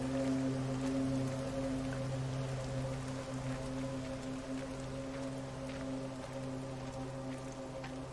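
Steady rain falls in the video game Everybody's Gone to the Rapture, a soft, even hiss of drops spread evenly over the scene, sitting beneath a sustained low tonal drone with no voices.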